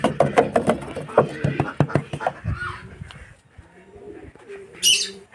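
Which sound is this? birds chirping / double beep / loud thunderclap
birds chirping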